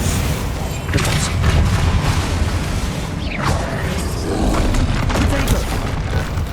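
A Depulsor spell cast in the Hogwarts Legacy video game, a dense booming blast amid steady rumbling game combat noise, with swirling magical whooshes layered over a continuous loud din.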